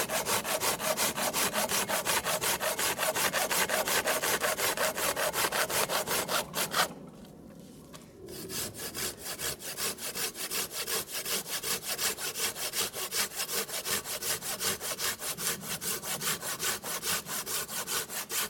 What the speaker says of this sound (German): mit diesem Sägeblatt sind Schnitte quer und diagonal zur Faser möglich